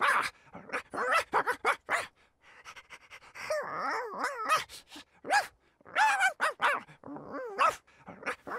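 Krypto the Super Dog in LEGO Batman 3: Beyond Gotham gives a string of sharp barks and yips mixed with whimpering and panting, irregular bursts with short gaps, loud and close.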